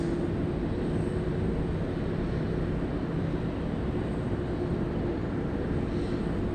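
A Qantas Boeing 787 airliner taxis at Sydney Airport, a continuous steady engine roar with a low hum, heard at moderate distance and unchanging throughout.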